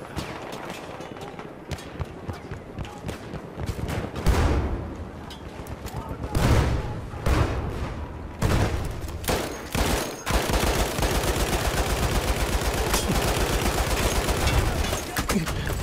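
Battlefield 1 online gunfire, repeated rifle and machine-gun bursts with heavy booms, starting sparse then building into dense sustained firing, loud and close, with a voice talking over parts of it.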